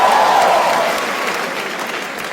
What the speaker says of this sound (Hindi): एक बार जोरदार ताली बजा दो सबके लिए भाई